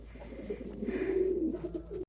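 Pigeons or doves coo softly and steadily close by, a low warbling call over faint background noise around a backyard bird seed feeder in freezing winter weather.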